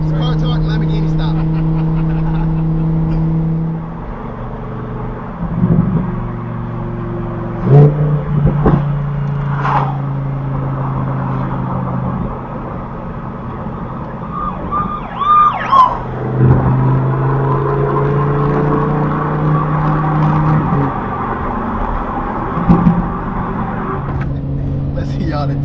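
A Lamborghini Huracan Performante engine drones from inside the cabin, its pitch stepping and swelling in several rises, while people talk over the steady mechanical hum.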